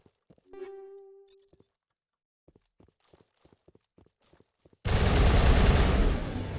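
Video game gunfire erupts as a dense, loud, sustained fusillade that fills the last couple of seconds. Before it come a tonal hum and scattered soft clicking steps.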